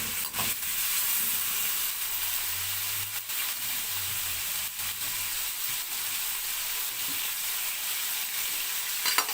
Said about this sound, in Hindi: अब इसमें हम डालेंगे प्याज